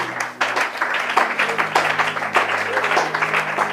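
A church congregation applauds with dense, continuous clapping from start to finish, fairly loud and close, with faint voices mixed in.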